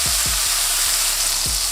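Smash burger patty searing in a hot pan, a loud continuous sizzle with a few sharp scrapes or taps of a spatula against the metal.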